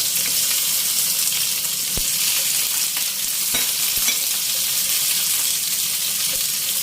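Red and green peppers frying in a pan for homemade beef kaldereta give a steady, loud sizzle with a few sharp clicks and taps from the pan throughout, with no talking.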